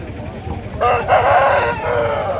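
A rooster crows loudly and close by, with hens clucking and a busy, noisy background of a village country-chicken market.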